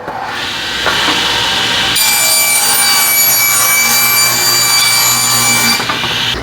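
A power saw rips lengthwise through a wooden board to cut it into strips, a loud, steady whine with a slight pitch change near the start, running continuously for several seconds before easing off at the end.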